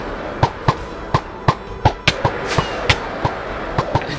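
Repeated sharp firework launches from an aerial chase in a Minecraft-style video game, about a dozen crisp bursts at a steady, fairly quick rhythm over a soft background hum, with no talk.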